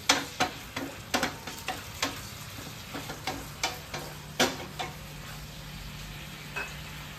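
Pieces of paneer frying for paneer 65, crackling and popping in sharp, irregular bursts over a faint steady hiss, close by and busiest at the start before thinning out, with no talking.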